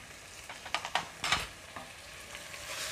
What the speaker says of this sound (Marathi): आपण मसाले पुन्हा चांगले परतून घेऊया आणि चवीनुसार मीठ घालायचे।